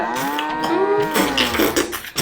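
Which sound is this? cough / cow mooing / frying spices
cow mooing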